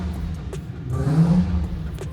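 A Nissan R34 Skyline engine hums steadily nearby, briefly swelling in a soft rev midway, with a few faint clicks over the low drone.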